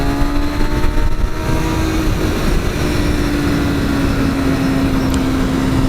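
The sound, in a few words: motorcycle engine revving, throttle response test after ECU flash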